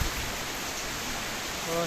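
Steady rain falling outdoors in bad weather, a continuous even hiss of drops with no breaks, moderately loud and close, lasting under two seconds.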